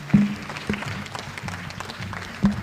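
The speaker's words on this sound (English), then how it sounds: "A round of applause" A crowd claps at a World Children's Day event in Kenya, loud and close, with a few raised voices and sharp peaks poking through the short burst.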